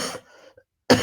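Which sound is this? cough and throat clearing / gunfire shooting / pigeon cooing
cough and throat clearing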